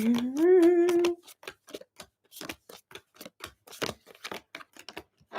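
Tarot cards are shuffled by hand, making a rapid, uneven run of crisp clicks and flutters close by, just after a short hummed or sung tone from a voice.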